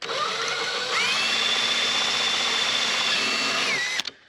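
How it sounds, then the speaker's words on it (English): A power drill whirs steadily and loudly up close as it bores a hole for a 7-inch round halo headlight on a Jeep Wrangler, its pitch rising slightly midway before it winds down and stops near the end. "Drill a hole there, connect this, turn it on, make sure everything's working."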